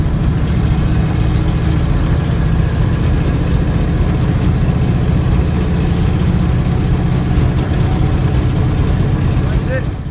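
A 1965 Dodge D500 truck engine runs steadily after a driveshaft repair, a continuous loud low drone with no breaks that holds even throughout, as if heard from the cab while moving.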